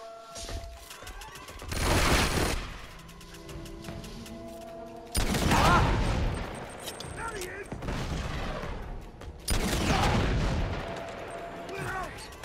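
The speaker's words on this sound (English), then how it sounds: "I launched two rockets from a rocket launcher at that dude and he didn't fucking die" Rocket launcher firing rockets in Uncharted 2: Among Thieves, fighting a heavily armoured enemy: three loud, booming blasts a few seconds apart, each with a crashing tail, over continuous game noise and some gunfire.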